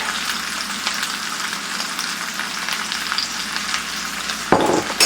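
Steady, dense sizzle of food frying in a 14-inch cast iron skillet over medium heat, holding close and even throughout, with a sudden louder burst of crackling near the end.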